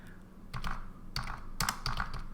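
A computer keyboard clicks in three short bursts of rapid keystrokes, close and fairly quiet, with brief pauses between as a terminal command is typed.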